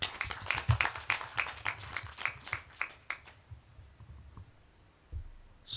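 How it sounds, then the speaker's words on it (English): Applause from a convention audience in Diani, Kwale, Kenya: dense clapping for about three seconds, then thinning to a few scattered claps before stopping. "Can we have a better clap for him?"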